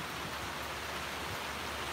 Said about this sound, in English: The rain's coming down much harder now.